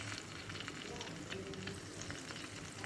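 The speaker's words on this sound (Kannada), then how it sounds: "ನೋಡಿ ಇಲ್ಲಿ ರೆಡಿ ಆಗ್ತಾ ಚರ ಅಂತ ಸೌಂಡ್ ಬರ್ತಾ ಇದೆ ಎಲ್ಲ ಎಣ್ಣೆ ನೋಡಿ" Oil sizzles steadily in a pan while a homemade herbal oil for headaches cooks, a constant faint crackling hiss with no clear breaks.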